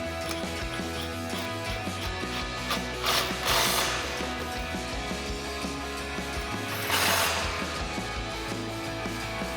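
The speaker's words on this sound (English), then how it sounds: "we'll tighten those back down with our 21 millimeter socket." A ratchet with a 21 mm socket tightens the front lower control arm bolts on a RAM 1500 truck, giving rapid continuous clicking, close and loud, with two brief surges of harder cranking.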